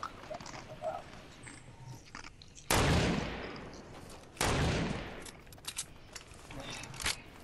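Gunfire in the Fortnite battle royale video game comes as two loud, dense bursts of shots over quieter game sounds and movement.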